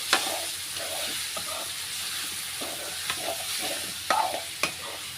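Broiler chicken pieces with skin sizzle steadily in a pan while a utensil stirs them, with a few sharp scraping knocks against the pan standing out above the frying hiss.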